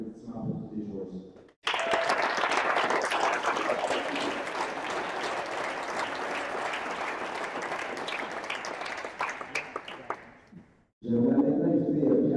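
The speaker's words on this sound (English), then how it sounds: "Et donc, un applaudissement pour tous les joueurs." Sustained applause from an audience for the players after the 2020 CWT gold medal match between Ontario and British Columbia, dense clapping lasting about nine seconds before fading, with brief talk before and after.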